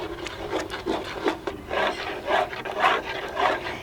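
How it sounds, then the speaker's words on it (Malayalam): A spoon scrapes and rubs around a pot of sweet green gram payasam, a quiet rhythmic series of stirring strokes repeating about twice per second. "വീണ്ടും ഇളക്കി കൊടുക്കുക"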